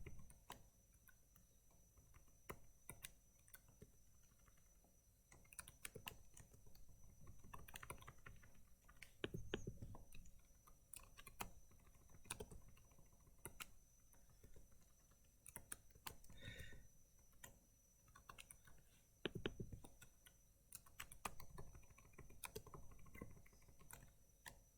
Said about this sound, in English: Don't even think about what the keystrokes are after a little while.